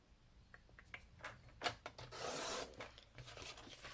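A blade cuts through a sheet of 8.5 by 11 inch cardstock during card making, heard as a run of close scraping, rasping strokes that swell into a longer sustained slice, with no talking.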